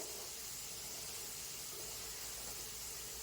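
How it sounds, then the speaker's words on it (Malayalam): A pot of curry simmering on the stove gives off a faint, steady hiss and bubbling murmur, low and unbroken throughout. "അപ്പോഴേക്കും എന്താ ഈ കറി തിളച്ചിട്ടുണ്ട്"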